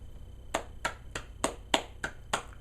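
Seven sharp, evenly spaced hand claps, close and fairly quiet, ringing out alone in a steady slow rhythm.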